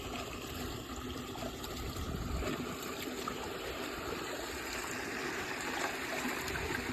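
Water flows steadily through an irrigation channel in a Punjab farm field, a constant rushing trickle at moderate distance with no voices.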